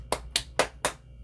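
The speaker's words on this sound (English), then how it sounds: "a real hard-ass golf clap for that one" Four sharp, evenly spaced hand claps in a slow, deliberate golf-clap rhythm, close and dry, with no voices.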